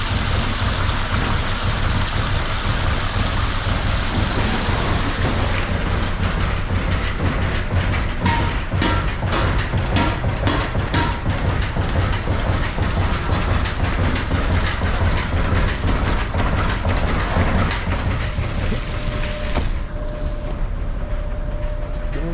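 Ball mill grinding gold ore, with a slurry pump nearby, gives a dense continuous rumble and clatter like heavy rain, with a stretch of rapid rattling impacts in the middle, loud and unbroken with no talking.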